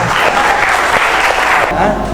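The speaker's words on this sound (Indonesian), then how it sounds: "tepuk tangan untuk kita semuanya" Loud, dense applause fills a classroom during a biotechnology lesson as students clap together in a steady wash, with some voices mixed in.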